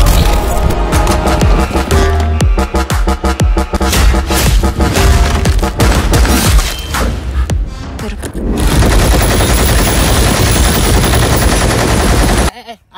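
Loud, sustained automatic gunfire with rapid bursts and heavy booms, continuous for most of the clip before cutting off abruptly near the end.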